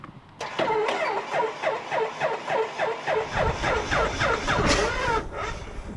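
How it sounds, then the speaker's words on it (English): A vintage airplane engine on a newly assembled plane cranks and fires on a test start, with rhythmic repeating bursts and a rough, throaty running sound close by. "Now that the plane is all assembled, it's time to test fire the engine."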